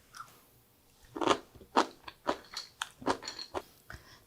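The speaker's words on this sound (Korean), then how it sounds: "김치가 너무 맛있어서 김치 한 번만 더 먹어보고" Homemade kimjang kimchi is chewed close up with crisp, crunchy bites, a run of sharp crunches and softer chewing in an irregular rhythm, quiet and without talk.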